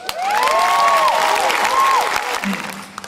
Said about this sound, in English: let's have a big round of applause for the longest serving physician at Tri-City Medical Center, Dr. Gerald White